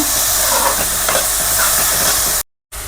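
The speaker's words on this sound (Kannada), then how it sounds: "ಈಗ ಮೊದಲು ಈರುಳ್ಳಿ ಫ್ರೈ ಆಗಬೇಕು ಸ್ವಲ್ಪ" Onions frying in a little oil in a pan for egg fried rice, a steady broadband sizzle with light stirring scrapes, close and loud, no talking, cutting out abruptly near the end.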